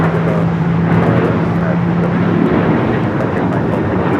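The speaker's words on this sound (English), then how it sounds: "1372 taking off to Liberia on the 737-900ER" Alaska Airlines Boeing 737-900ER jet taking off at LAX, a steady broadband engine roar with a low droning tone, loud and continuous throughout with no pauses.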